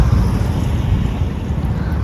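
Strong wind gusts outdoors at Kotada Dham, producing a loud, continuous buffeting roar against the microphone with low rumbling throughout.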